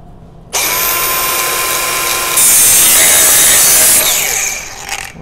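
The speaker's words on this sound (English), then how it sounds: "I want to cut through this plate and I want to go about 2/3 of the way down on it" A steel plate is cut through with a loud, continuous harsh grinding whine that climbs in intensity partway through, then tapers off at the end, with no talk.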